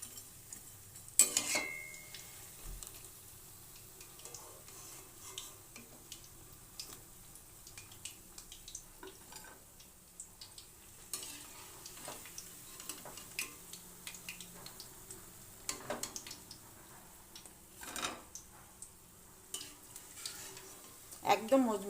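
Cauliflower pakoras fry quietly in oil while a utensil clinks and scrapes now and then against the pan as the fritters are lifted out, with faint sizzling underneath.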